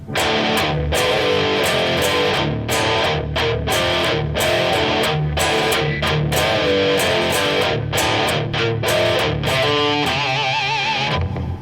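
A distorted electric guitar chugs a tight palm-muted riff, with sharp accented chords cutting through the steady chugging rhythm; loud and continuous.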